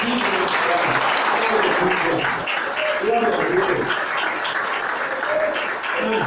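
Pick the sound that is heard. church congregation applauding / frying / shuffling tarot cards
church congregation applauding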